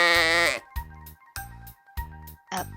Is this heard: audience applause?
no